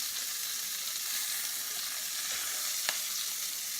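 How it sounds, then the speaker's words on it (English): Steady, fine crackling sizzle of meatballs browning in a hot pan, continuous and fairly close, with one brief sharper tick near the end. "the sizzling sound when you brown meatballs"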